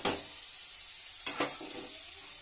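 Chilli and turmeric powder get stirred into tomatoes frying in a pan, with a soft continuous sizzle and two brief scraping strokes of the spoon near the start and midway.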